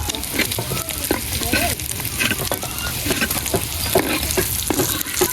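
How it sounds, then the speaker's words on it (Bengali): Hilsa fish fries crisp in hot oil, producing a loud, continuous sizzle and crackle close by, broken by repeated stirring and scraping sounds. "কড়া করে ইলিশ মাছ একেবারে কড়া কড়া করে ভাজি নিছি"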